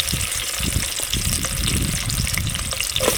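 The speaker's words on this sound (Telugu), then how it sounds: "ఆనియన్స్ ముక్కలు, పచ్చిమిర్చి ముక్కలు ఆయిల్లో ఫ్రై చేసుకున్నాము." Chopped onions and green chillies fry in hot oil for a fish curry, giving a steady close sizzle with crackling pops and occasional stirring scrapes throughout, no voices.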